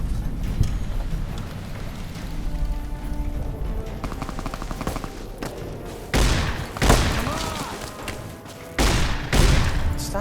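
Gunfire in Fallout: New Vegas, with scattered shots early and then several loud, sharp bursts of rapid fire toward the end over a steady game backdrop.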